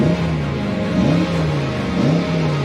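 A car fitted with two small rear silencers and German plates revs, its engine note rising and falling in repeated smooth swells, close and loud with no talking over it.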